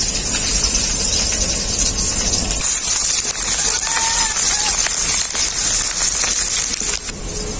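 Onions with bay leaf and black cumin sizzling in hot mustard oil in a kadai, a loud continuous frying hiss that runs throughout and eases slightly toward the end.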